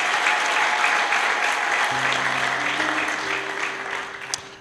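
A church congregation applauds in thanks during a sermon, a dense, sustained wash of clapping from many hands that fills the room, with a low steady tone entering partway through, then the clapping slowly thins and fades toward the end.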